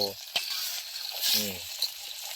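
Wild food deep-fries over a high flame, giving a bright, steady sizzle with a few sharp pops, while a voice briefly sounds partway through.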